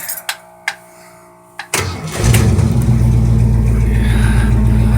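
A 1971 Ford E-300 Super Van with a rebuilt 302 engine and C6 automatic transmission cranks over after a few clicks, catches loudly and settles into a steady, rumbling idle close to the listener.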